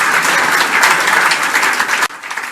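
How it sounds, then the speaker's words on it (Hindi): A congregation claps during a Hindi Jain sermon, steady loud applause filling the hall for about two seconds before cutting off abruptly, with a faint voice after. "बजाओ अपने लिए ताली"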